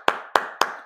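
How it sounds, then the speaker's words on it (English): Four sharp, evenly spaced hand claps, close and fairly quiet, each a crisp single smack with a quick decay. "I'm just going to applaud that"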